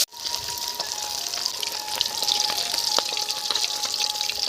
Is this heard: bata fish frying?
yes